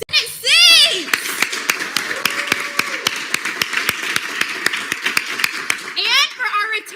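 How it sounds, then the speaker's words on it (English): Applause from a student government gathering for newly elected student senate winners: steady clapping throughout, with excited young voices shouting at the start and end. "applause for our SLCers that won their Senate seats"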